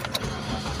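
A car engine cranks and catches after a fuel pump replacement, settling into a steady close idle rumble with no one talking.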